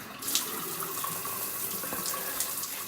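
Water runs steadily from an older, internally corroded Delta faucet into a sink, a continuous close splashing hiss with no talking.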